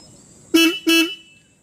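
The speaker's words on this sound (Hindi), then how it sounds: "तो ये था हॉर्न, काफ़ी लाउड हॉर्न" Two short, loud, bright blasts from the electric horn of a 2022 Royal Enfield Classic 350 motorcycle, heard close up in otherwise quiet surroundings.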